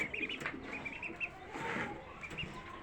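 Chickens and roosters kept under a yellow heat lamp cluck and chatter softly nearby, with overlapping short calls and no talking.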